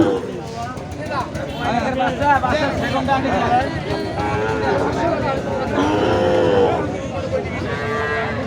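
Sahiwal bulls at a busy livestock market give repeated deep, drawn-out moos close by. A steady babble of crowd voices and bargaining runs underneath them.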